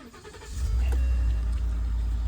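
A 13th generation Ford F-150 pickup engine starts and settles into a steady, loud low idle close by, heard on its own with no voices.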